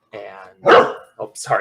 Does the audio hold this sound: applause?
no